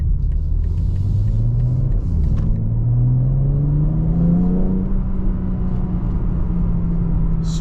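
A 2022 BMW M4 Competition coupe pulls away, its engine rumbling steadily and rising in pitch as it accelerates through the gears, heard close and loud from inside the cabin with no talking.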